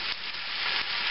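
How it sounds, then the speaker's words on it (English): Cabbage and Spam fry in leftover bacon grease, a steady close sizzle and hiss that runs without a break and with no voices over it. "Okay, this has been frying for maybe 10 minutes now."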